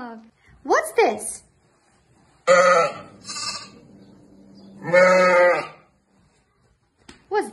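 Several wavering bleats of a sheep ring out close by, separated by pauses, with a brief bit of speech-like sound at the start.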